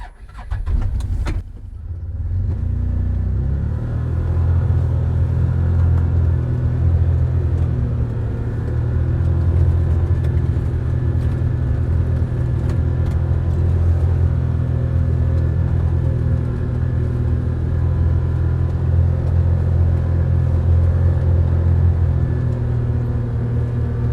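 A car drives slowly around a snowy winter campsite, its low engine rumble steady and close throughout after a brief start, with no talking.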